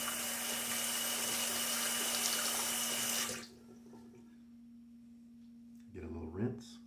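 A water tap runs in a sink as a Gillette Nacet blade in a Karve CB brass safety razor is rinsed, a loud steady gush for about three seconds that then stops, followed by quiet and a brief handling clatter.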